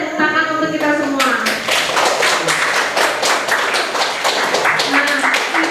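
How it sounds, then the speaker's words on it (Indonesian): Students clapping together in a classroom after a group presentation, a dense run of sharp, close claps after a brief spoken phrase, with a voice briefly heard under the clapping. "Boleh tepuk tangan untuk kita semua."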